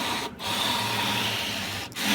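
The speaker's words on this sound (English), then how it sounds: "I don't have an official sanding block to do the frets with" Steady abrasive rubbing of fine sandpaper against metal guitar frets, a continuous scratchy hiss with two brief pauses where the stroke changes direction.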